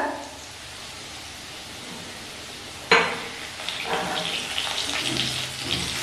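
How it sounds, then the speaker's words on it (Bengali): Whole cloves, cardamom, a cinnamon stick, cumin and a bay leaf hit hot oil with a sudden loud sizzle after a quiet start, then keep crackling and spitting near the microphone. "ফোড়নটা একটু ভালো করে ভেজে নিই।"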